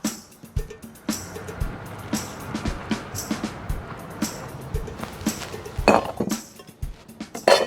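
Homemade sour mix being bottled, with scattered glass clinks, knocks and clatters of bottle and kitchenware at close range, fairly quiet, with irregular bursts and a brief louder rattle toward the end.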